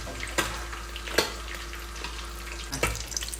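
Soft, steady sizzling of onions and abacha frying in a pan, with a few sharp clinks and scrapes of a utensil stirring at intervals.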